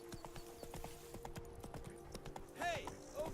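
Roach the horse galloping in The Witcher 3, with repeated hoof clip-clops throughout, mixed with a game music bed and a voice speaking over the hooves.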